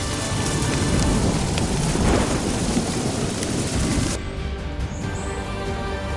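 Heavy rain pours steadily during a thunderstorm with loud rumbling thunder, a dense continuous roar that drops to a softer, lighter patter near the end.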